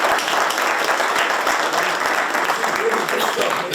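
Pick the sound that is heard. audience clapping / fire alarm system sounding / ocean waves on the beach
audience clapping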